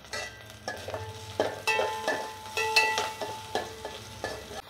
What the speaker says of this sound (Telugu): కొంచెం కరివేపాకు వేసుకోవాలి.